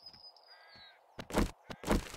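A vulture in the survival game 7 Days to Die gives two loud, harsh caws close by, each short and rasping, after a faint thin cry.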